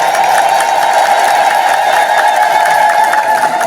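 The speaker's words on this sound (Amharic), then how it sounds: "ተነስቶ አጨብጭቡላቸው።" Crowd applause from an audience rising to its feet at an Ethiopian Orthodox church gathering, steady and dense clapping with some cheering, loud and continuous throughout.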